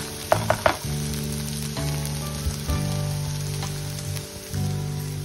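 Okra sizzling and crackling steadily in hot oil, close up, with a few sharp clinks of a utensil near the start and no talking.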